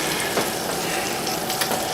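Butter sizzling in a hot pan while cooking beef stroganoff, a steady close crackling hiss that holds evenly for a couple of seconds.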